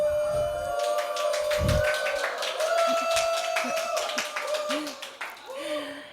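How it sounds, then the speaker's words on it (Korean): An audience at an autism talks event claps and cheers for a speaker coming onstage, a dense spread of handclaps under a steady tone, with voices and murmurs mixed in near the end. "여러분의 큰 박수 함성 부탁드리겠습니다"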